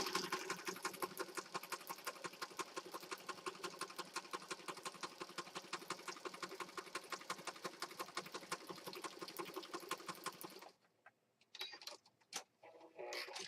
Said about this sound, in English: I'm just going to stitch all around these elements here